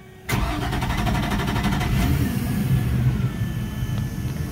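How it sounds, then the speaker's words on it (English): A 2015 Sea Ray 230 SLX boat engine cranks briefly, catches and settles into a loud, steady, close-up idle that continues to the end. "You turn the key and just crank it for about five seconds."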